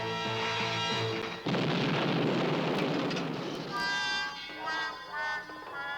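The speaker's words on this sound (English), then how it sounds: "Not the old cannon. It's bound to burst." A loud cartoon cannon blast in an animated Berenstain Bears story, a sudden broadband boom followed by a sustained rumbling roar, with musical tones and voices before and after it.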